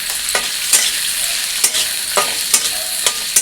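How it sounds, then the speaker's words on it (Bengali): Onions, garlic cloves and dried red chilies fry in a pan for snake gourd bharta. A loud, close sizzle with regular spatula scrapes and stirs every half second or so, and no voices. "এগুলো ভালো করে ভেজে নেব।"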